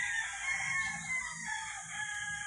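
A Mount Banahaw rooster on a farm crows once in a long, clear call, heard at moderate distance over faint background noise.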